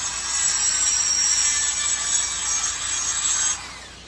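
A rotary grinder touches up the edge of a port in a Pro Mac 700 chainsaw engine cylinder, giving a steady, loud, high-pitched grinding whine that holds for about three and a half seconds and then stops abruptly.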